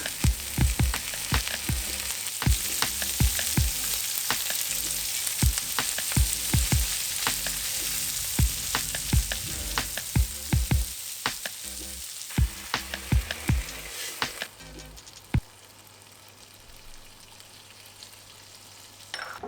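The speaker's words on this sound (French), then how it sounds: "poêler l'échine qui a été marinée 12 heures" Pork shoulder marinated for twelve hours fries loudly in a pan, a dense close crackle of spitting fat and bursts that runs for most of the stretch, then drops off to a quieter, sparser sizzle near the end.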